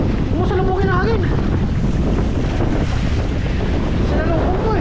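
Loud wind gusts buffet the microphone in a constant rumbling roar, with voices calling out faintly beneath it.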